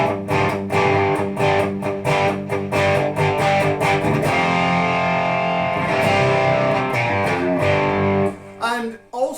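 An Ibanez RG1070PBZ electric guitar with its volume knob rolled back for a crunch tone, playing loud distorted strummed chords and ringing sustained notes that fade near the end.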